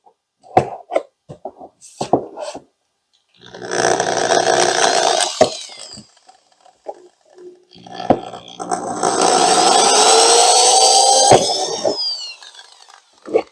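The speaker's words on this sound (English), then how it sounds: "I need to drill another hole somewhere in this area, which I'll do right now." A power drill whines loudly in two long bursts, pitch rising as it bites into a cracked plastic car bumper, with clicks and handling knocks before and between.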